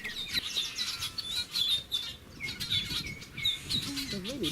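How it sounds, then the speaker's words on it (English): Cuban blackbirds calling in Cuban forest near Topes de Collantes, with repeated high chirps and squeaky notes at moderate distance and a voice briefly speaking near the end. "Cuban blackbirds."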